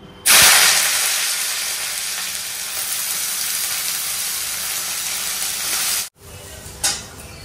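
Sliced bitter gourd fries in a hot pan, giving a loud, steady sizzle that runs for about six seconds, cuts out abruptly, then returns briefly as a softer hiss.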